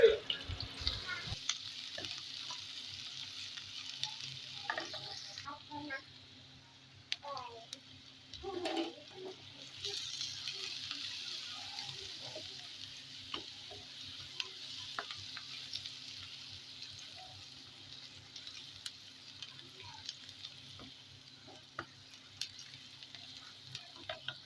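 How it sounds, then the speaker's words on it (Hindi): Finely chopped onions fry in ghee for a lobia dish, a faint steady sizzle with occasional stirring clatter, while a person talks over it at times. "उसके बाद हमने इसमें ऐड कर देना है प्याज बारीक कटी हुई।"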